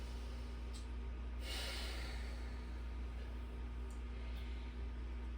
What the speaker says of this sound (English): Essentially just loud breathing out through your nose.